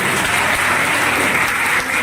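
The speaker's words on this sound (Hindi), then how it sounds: "तालियां बजाओ जी" A crowd applauds at a Vishwa Hindu Bairagi Sangh community gathering, producing loud, close, continuous clapping that holds steady for the whole stretch with no speech over it.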